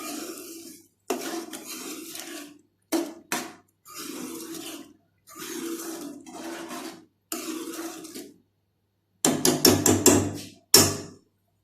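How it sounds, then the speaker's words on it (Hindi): A spoon stirs semolina halwa in a pot in repeated scraping strokes with short pauses between them, ending in a quick burst of sharp metallic knocks against the pot. "अब हम एक बार इसमें चमचा चलाएंगे"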